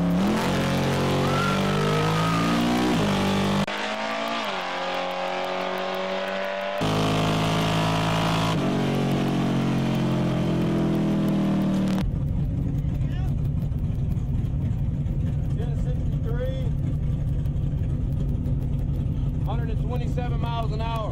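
A tricked-out Ford Mustang at a drag-racing event roars loudly at close range in several abrupt cut segments of revving and accelerating engine, followed by a steadier, busier stretch of engine noise with voices in the background.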